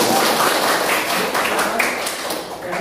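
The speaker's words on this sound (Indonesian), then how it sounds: "Ya, kita tepuk tangan dulu." A classroom full of students applauding, a dense burst of clapping that stays loud for a few seconds before easing slightly.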